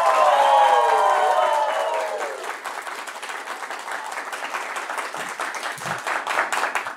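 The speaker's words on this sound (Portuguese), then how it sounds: "Pessoal, uma salva de palmas então para os nossos convidados" An audience at an education week meeting gives a round of applause for the invited guests, sustained crowd clapping that emerges as a trailing tone fades, continuing steadily to the end.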